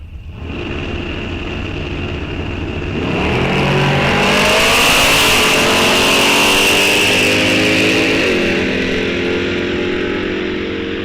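A 1968 Chevy II and a Camaro SS muscle car launch in a drag race at Rock Falls Raceway, engines roaring up through rising revs, peaking loud and close, then a gear change and a sustained blare trailing off.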